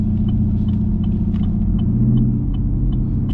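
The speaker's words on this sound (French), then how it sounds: "ça met un coup de gaz quand tu rétrogrades" Low, steady engine rumble from a performance car, with a rising throttle blip as the engine rev-matches on a downshift; continuous and fairly loud with no talking.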